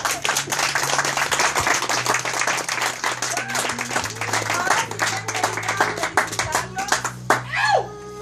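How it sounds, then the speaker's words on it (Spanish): Wedding guests break into sustained, dense clapping at a reception as the couple is introduced, loud and close, with voices and a child's chatter underneath and a brief call rising near the end. "Un aplauso,"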